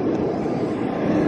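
Loud, steady engine roar from an airplane while passengers board, a dense continuous drone with no break or change.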